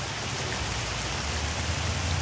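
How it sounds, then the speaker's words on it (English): Tiny hailstones, fine ice pellets, fall in a steady, even patter that sounds like light rain on a surface, continuous and close for a couple of seconds. "it's not snow, but it's hail. Really small hail."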